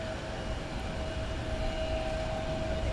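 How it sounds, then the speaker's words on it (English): Airliner engine noise at DFW Airport at night: a steady, broad roar with a faint sustained tonal whine, heard from a distance and continuous with no talk. "This may be an inactive flight going to the hangar"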